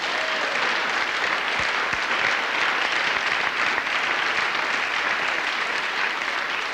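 A large crowd at the Miss Great Britain 1983 beauty pageant applauds continuously, steady and full, with no pause in the clapping.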